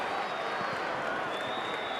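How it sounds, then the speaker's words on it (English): Crowd of Sturt supporters applauding at an Australian football preliminary final against Glenelg, steady distant clapping and crowd roar beneath a commentator's voice. "Sturt supporters stand and applaud the young man."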